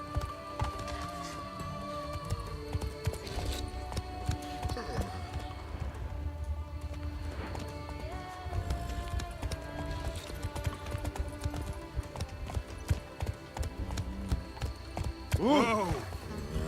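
Hooves of Roach, the horse in The Witcher 3, clip-clopping in a steady galloping rhythm over game music, with a voice talking at times and a brief whinny-like sweep near the end.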